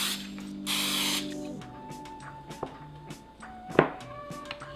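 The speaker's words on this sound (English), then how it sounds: "I have a metal bench scraper and some spray." A short hiss of cooking spray coats a metal bench scraper, followed by clicking and tapping mechanical sounds as the tool is handled up close.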